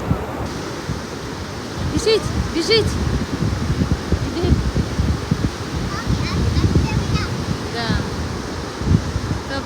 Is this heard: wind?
yes